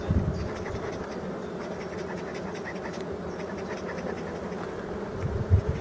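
Honeybees buzzing at an opened beehive full of brood, a dense continuous hum close by with faint scratching of frames, no talking.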